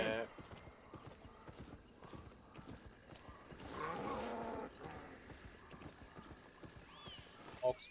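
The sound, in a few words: horse hooves clip-clopping while riding in Albion Online video game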